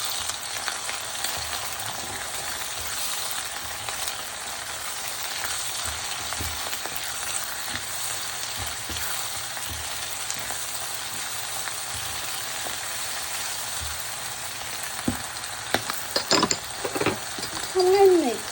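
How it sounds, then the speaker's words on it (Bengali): Shrimp fry in a pan with chili and onion, giving a continuous close hiss of sizzling oil. Clattering stirs and scrapes grow louder toward the end. "ওই দেখুন কিছুটা চিংড়ি মাছ, এই চিংড়ি ভাজা হয়ে যাবে।"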